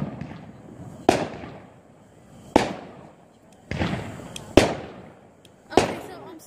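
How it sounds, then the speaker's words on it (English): Fireworks burst outdoors at night in a string of five sharp, loud bangs about a second apart, each followed by a crackling, fading tail, with some voices faintly underneath. "let's get some more fireworks"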